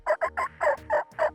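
A wild turkey gobbles in a rapid burst of six or seven loud, close rattling notes with short gaps between them, and nobody talks over it.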